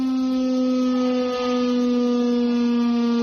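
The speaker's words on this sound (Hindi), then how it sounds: "वॉर सायरन पाकिस्तान की तरफ बज गया है।" A steady, loud war siren holds one pitch with a faint rise and fall in Khyber Pakhtunkhwa, Pakistan, sounding continuously with no voices.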